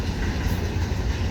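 A commuter train passes close by: a loud, dense, steady rumble of rolling railcars fills the whole stretch, with no voices.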